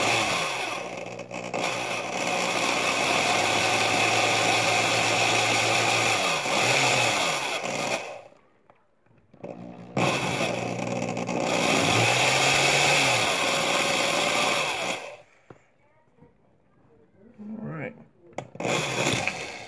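A handheld drill twists kanthal wire, giving two long, loud, steady whirring motor bursts separated by pauses, followed by a few brief short whirs.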